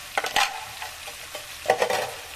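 Half a teaspoon each of garam masala and cumin powder fry in oil in a pan for an egg curry. A spoon scrapes and stirs in two short bursts over a soft sizzle.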